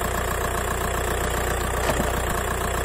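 A Skoda Fabia from the 1999–2007 range idles after an oil change, a steady close rumble with an even pulsing beat and a faint knocking rhythm, loud and unchanging.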